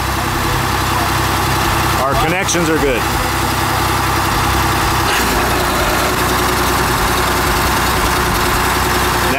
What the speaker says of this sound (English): Engine has started